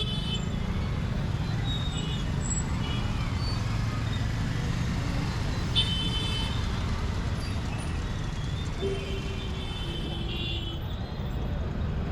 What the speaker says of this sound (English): Quite a battle with the traffic here right now.